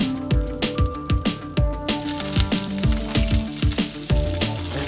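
Chopped garlic sizzles in a hot pan for a Batangas-style beef caldereta, a steady crackle with repeated tapping and scraping of a utensil, set against a background tune.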